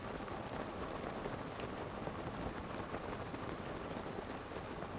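Rain in a Zelda video game falls as a steady, dense hiss of downpour that stays even and moderately loud throughout, with no talk.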